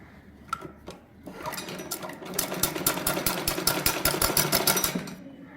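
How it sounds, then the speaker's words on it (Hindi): A sewing machine stitches along the folded edge of a kameez neckline, starting with a few soft clicks and then running into a rapid, steady, close mechanical chatter that stops near the end. "अब इस तरह फिंगर से बिठाने के बाद आपने यूं किनारे की सिलाई लगाते हुए चले जाना है।"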